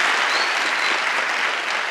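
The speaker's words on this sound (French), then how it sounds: "Est-ce que vous pouvez l'applaudir, s'il vous plaît?" A comedy show audience at a stand-up performance claps loudly and steadily, a dense wash of applause filling the whole moment with no speech over it.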